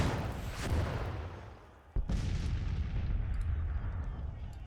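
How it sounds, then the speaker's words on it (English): Artillery and long-range rifle fire in Grand Tactician: The Civil War, a dense wash of distant booms and crackling shots with a sharp report near the middle, then a sustained rumble of continued firing. "Now time to start pegging this artillery with some long-range fire."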